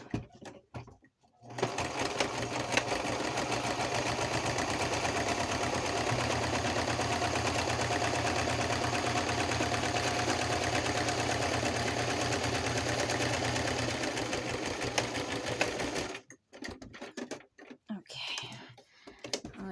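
A sewing machine runs steadily for about fifteen seconds, straight-stitching a journal cover. Its whirring motor hum stays even throughout, with quiet handling noises before and after.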